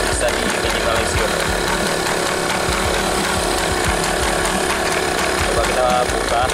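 Two-stroke generator running loud and close, a continuous buzzing, rattling drone with rapid clatter, holding steady throughout with a faint voice underneath.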